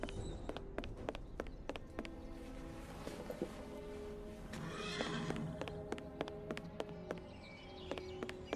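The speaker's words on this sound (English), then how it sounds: "And a horse perked up." A horse neighs in Sherlock Holmes: The Awakened, set in New Orleans: a drawn-out whinny over sparse hoof taps and faint game ambience, quiet and unaccompanied by talk.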